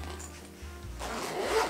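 Zipper on a small mini trumpet case being pulled open in one quick continuous rasp, close and fairly quiet, rising louder toward the end.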